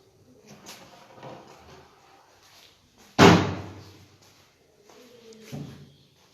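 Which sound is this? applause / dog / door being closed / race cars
door being closed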